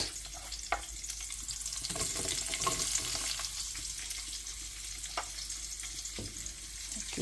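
Sliced onions tipped into a pan with browned lentils and frying, a steady crackling sizzle with intermittent scraping and clicks from stirring, moderately loud and close.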